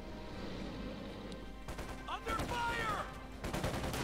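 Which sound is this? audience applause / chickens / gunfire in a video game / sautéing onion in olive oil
gunfire in a video game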